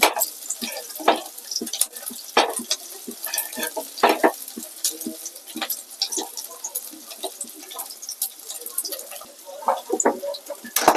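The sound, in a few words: onions frying in hot oil in a wok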